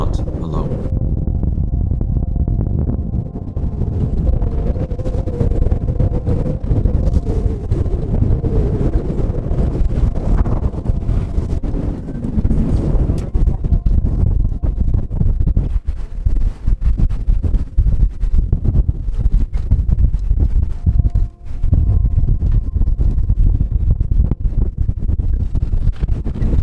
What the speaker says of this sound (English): Wind speed is still between 25 and 32 knots, but gusts over 40 knots are no joke